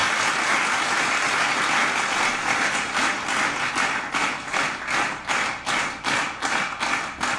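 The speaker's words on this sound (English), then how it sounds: "Give yourselves a round of applause." Audience applause fills the room, a dense wash of clapping that later breaks into rhythmic, pulsing claps, steady and fairly loud with no talking.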